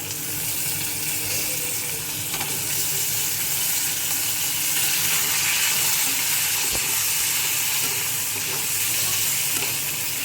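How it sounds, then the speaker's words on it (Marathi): Potatoes tipped into hot oil in a frying pan with ginger-garlic paste set up a continuous close sizzle and crackle, with occasional small clinks, steady throughout and free of speech. "त्यामध्ये आता आपण बटाटे टाकून घेऊ."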